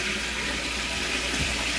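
Fresh water gushes steadily out of a hose as it flushes clean, a continuous broadband rush heard close and alone with no talking.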